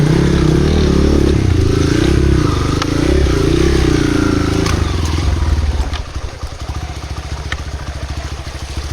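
A motorcycle engine idles and rumbles loudly while being ridden slowly across a shallow river, with water sloshing and clattering around it; the drone steadies into a lower, pulsing putter partway through.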